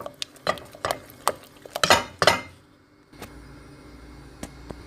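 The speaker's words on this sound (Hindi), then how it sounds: "मुसलसल इसको हिलाते जाना है।" Bombay halwa mixture with ghee stirred in a pan, a run of quick scraping and clinking spoon strokes for a couple of seconds, then a quieter pause with a few faint taps, close and without talk.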